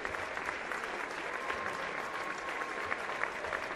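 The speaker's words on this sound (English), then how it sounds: "So a standing ovation given here from the crowd as both seniors check out here for the last time" A high school boys basketball crowd gives a standing ovation in a gym, sustained dense clapping with scattered cheers, steady and moderately loud for several seconds.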